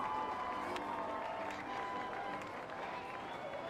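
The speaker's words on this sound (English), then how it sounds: "I heard some cymbals crash and audience applause." Broad crowd applause and cheering in the video game RollerCoaster Tycoon, washing steadily through the whole stretch, dense and continuous, with a few brighter cymbal crashes standing out above it.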